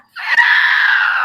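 A horrible banshee-like scream rings out, a single loud, piercing, sustained shriek that starts abruptly after brief silence and holds steady without fading.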